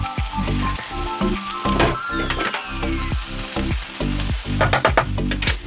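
Young cabbage and carrot braise in a pan with a steady close sizzle, broken by the scrape and clatter of stirring, and no one speaks.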